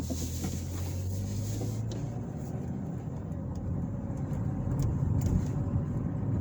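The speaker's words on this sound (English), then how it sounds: "I'm going to just kind of drive around downtown for a minute." Car driving through downtown Pendleton, Indiana, heard from inside as a steady low engine and road rumble with a brief drop in tone early on, continuous and moderately loud.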